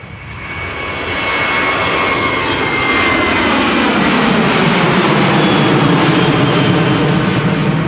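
An airliner departs Amsterdam Schiphol Airport with a loud, steady engine roar that swells over the first seconds and then holds strong and constant.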